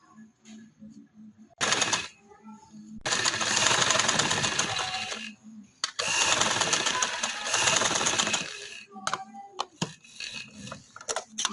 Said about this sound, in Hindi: तो दोनों चीज़ों को साथ साथ लेके तो मैं सिलाई लगाती जाऊंगी।